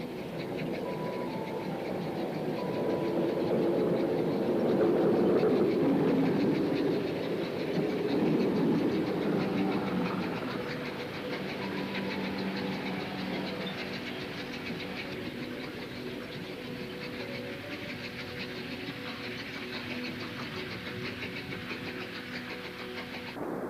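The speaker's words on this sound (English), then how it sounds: "As 4683 departs round the curve towards Seacombe Junction and on to New Brighton, an electric unit on a West Kirby train arrives." An electric multiple unit on a West Kirby service rolls in at a curve near Seacombe Junction as steam locomotive 4683 heads away; a loud, steady rumble of wheels and engine builds and swells early, then settles into a continuous, fainter running noise.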